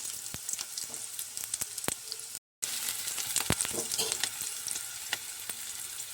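Onions dropped into hot oil in a kadai fry with a steady bright sizzle, broken by sharp stirring clicks and a brief cutout, close and alone for the cooking of a jackfruit seed curry.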